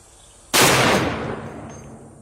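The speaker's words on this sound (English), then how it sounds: "I'm gonna shoot another one and try to get it lower down here." A gunshot fired at a solid gold bar worth 45,000 US dollars: one sharp, loud crack that bursts out abruptly, then decays into a rolling outdoor echo over about a second and a half.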